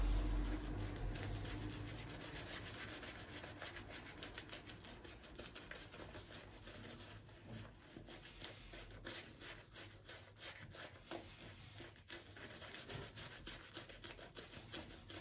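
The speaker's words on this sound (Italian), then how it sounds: "Vedete che più acqua mettiamo, più la crema monta." A shaving brush whips shaving cream into lather, giving quiet, rapid, rhythmic swishing and rubbing strokes that continue steadily and close by, with no talking.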